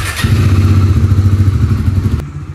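A Bajaj Dominar 400 motorcycle engine fires up with a short starter crank, then settles into a loud, close, steady thumping idle before cutting off abruptly.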